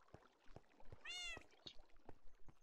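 A Minecraft cat gives one clear, rising-and-falling meow midway, fairly faint, amid quiet scattered clicks and taps.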